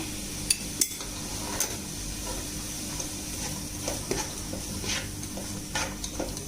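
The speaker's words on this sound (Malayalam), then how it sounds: "ഇനി ഓണിയനൊക്കെ ജസ്റ്റ് ഒന്ന് വാടി വരുന്നവരെ നമുക്കൊന്ന് ഇളക്കിക്കൊണ്ടിരിക്കാം" Onions with salt and turmeric being stirred in a frying pan for masala bread, giving a low steady sizzle with several sharp utensil scrapes and taps against the pan.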